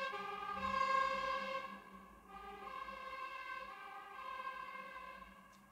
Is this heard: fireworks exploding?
no